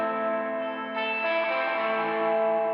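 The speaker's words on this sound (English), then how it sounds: "And then there's a just regular old reverb." A Line 6 James Tyler Variax guitar rings out through a plain reverb effect turned to a high mix, giving a sustained, washy chord that swells slightly partway through and hangs on without decay.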